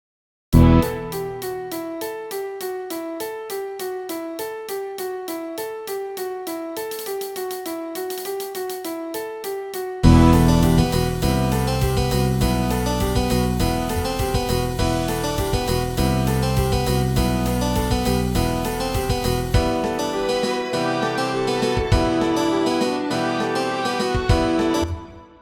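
The intro of the rock song opens with a sparse repeating beat and melodic pattern, then at about ten seconds a fuller, louder arrangement with strings and heavy low end kicks in.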